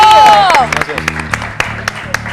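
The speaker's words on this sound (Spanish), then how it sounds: "Un fuerte aplauso, por favor." A studio audience on a variety TV show claps to welcome guests; a short musical flourish fades into a burst of scattered clapping over a steady backing tune.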